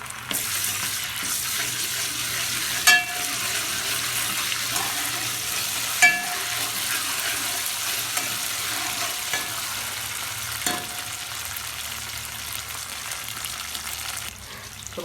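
Onion that has browned in a pan sizzles steadily with ginger-garlic paste for village-style chicken soup. The frying hiss is close and continuous, and a few sharp utensil clinks cut through it.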